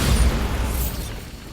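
A Bombarda spell blast in Hogwarts Legacy detonates as a loud, close, low boom whose deep rumble decays over about a second, with no one speaking.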